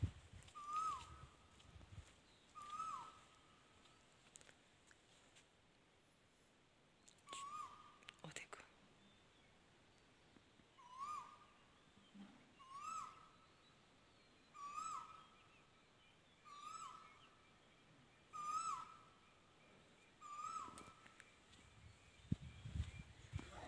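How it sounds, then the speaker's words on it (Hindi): A single bird calls in the pre-dawn dark before 5:30 in a village, giving short, hooting calls at a slow, regular pace in a quiet, still setting, sounding faint and somewhat distant. "सुबह पंछी बोल रहा है आवाज़ सुनाती हूँ मैं आपको"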